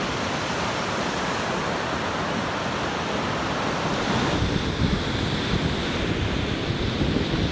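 Ocean surf rolls in steadily along the high-cliffed Black's Beach shoreline in La Jolla, a broad continuous wash of breaking waves with some wind buffeting, swelling slightly louder toward the end, no voices.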